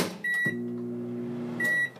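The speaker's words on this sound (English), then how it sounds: "Let's put it in the microwave." A microwave oven runs with a steady low hum for about a second, framed by sharp beeps and clicks at the start and end of the cycle, with no talking.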